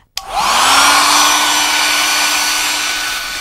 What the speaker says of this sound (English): Most people are quite surprised to see a hairdryer in the workshop.